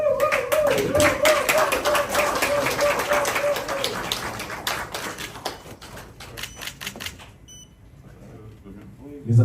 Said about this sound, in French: Les applaudissements timides